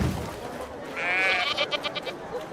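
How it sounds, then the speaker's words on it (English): A single drawn-out sheep bleat sounds in the video game I Am Jesus Christ, followed by a few short rapid pulses. It is fairly loud and near, over soft game ambience. "Watch out! Our animals are running all over."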